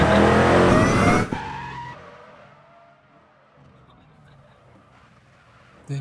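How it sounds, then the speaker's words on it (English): A video-game car speeds off with a loud burst of engine and screeching tyres that ends abruptly, then fades into a quieter, low rumbling drive. "this is a 4-wheel baby and it's about to burn some rubber"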